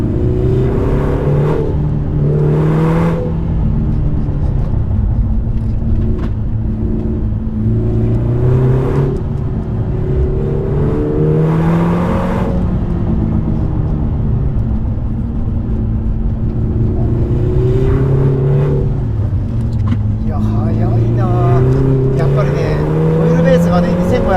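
Lotus Emira 2.0 sports car pulling hard on a winding road, engine note rising and falling through gear changes from inside the cabin, with someone talking over it.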